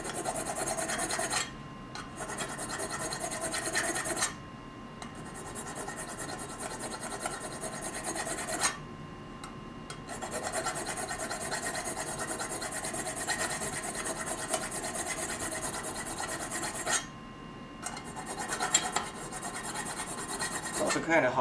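A hand file rasps steadily against a clamped workpiece in a garage, long loud scraping strokes broken by a few short pauses, with no talking.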